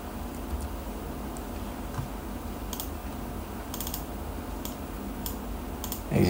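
Typing on a computer keyboard while entering a SQL command, sparse clusters of faint, quick key clicks over a steady low hum, with a louder bump at the very end.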